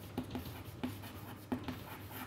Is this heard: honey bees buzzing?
no